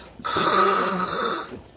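A voice imitates snoring in a single drawn-out, raspy snore lasting over a second, close and fairly loud, alone without other talk.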